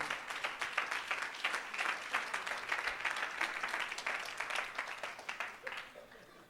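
Church congregation clapping during a sermon, a fairly faint, continuous patter of many hands with irregular bursts, mingled with some voices from the crowd.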